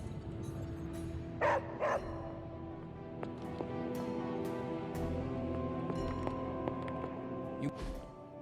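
A dog in Marvel's Midnight Suns gives two quick, fairly loud barks close together, set against the game's steady ambient background.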